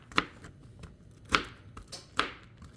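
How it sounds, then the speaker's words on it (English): A knife roughly chops a handful of walnuts on a board, three sharp, close chopping thuds spaced about a second apart, with faint crunching between them. "We're just gonna roughly chop it."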